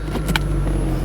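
A 1994 Chevrolet Corvette C4 engine idles with a steady low rumble, close and continuous through a brief moment, with a faint short click partway.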